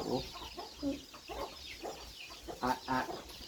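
A hen that has just hatched two chicks clucks repeatedly in short, irregular bursts, fairly close, over a faint outdoor background.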